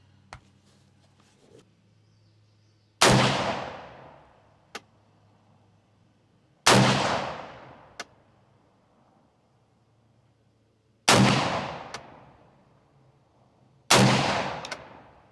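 Four loud, sharp rifle shots from a Kel Tec SU16 firing 55 grain American Eagle ammunition, spaced several seconds apart, each ringing out and decaying, with faint clicks of handling between them.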